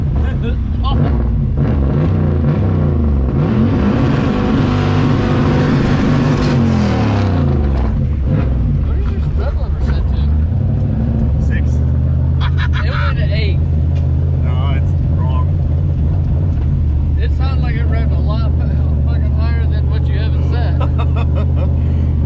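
An all-wheel-drive Audi with a swapped LS V8 doing a burnout at a burnout competition, its engine roaring loud and steady throughout, rising to a high rev before settling into a sustained drone, with voices shouting over it.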